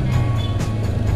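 Engine hum of a Yamaha Mio scooter fitted with a Shogun CDI, a steady low drone of the engine on a busy road, with light wind rush over it.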